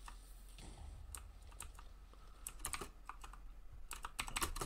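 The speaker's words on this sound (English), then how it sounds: "my keyboard's probably loud as all shit" Rapid typing on a loud computer keyboard during a Minecraft session, irregular bursts of sharp clacks close to the microphone with no talking.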